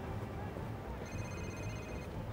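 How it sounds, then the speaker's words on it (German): A mobile phone rings with a steady electronic tone in the Spider-Man 2 video game, sounding faintly behind a constant layer of game music and ambience. "Ich höre sein Handy."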